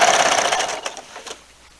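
Sewing machine stitching quilt binding, a rapid buzzing run of needle strokes that slows and fades out over under two seconds, with no talk.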